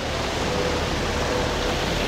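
Flowing water at a water garden in Bahrain rushes steadily in a broad, even wash, close and constant with no speech over it.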